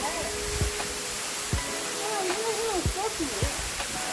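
A summer waterfall in Baolong valley in the Qinling mountains, a dense steady roar of falling water filling the scene, with voices talking over it.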